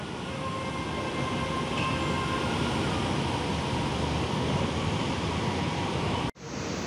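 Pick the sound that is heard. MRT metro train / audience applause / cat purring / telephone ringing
MRT metro train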